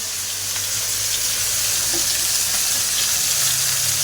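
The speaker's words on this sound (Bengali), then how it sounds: "মাছ ভাজা হয়ে গেছে" Loud, steady hiss and crackle of fish frying in oil in a home kitchen, close by and unbroken for the whole stretch, with a low hum in the background.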